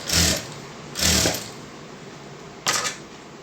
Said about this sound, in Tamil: முக்கோணமாக அப்படியே தைக்கிறோம்.